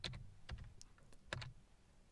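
Keys tapped on a computer keyboard, a short burst of crisp clicks in quick uneven succession, close and fairly quiet with no voice over them.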